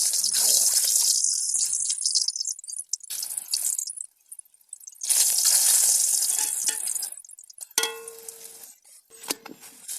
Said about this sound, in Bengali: এখন পরোটা ভাজবো।